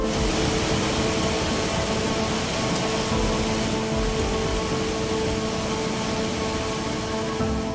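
Heavy monsoon rain falls in Mahabaleshwar as a dense, steady roar of broadband noise, loud and unbroken throughout, with no voices.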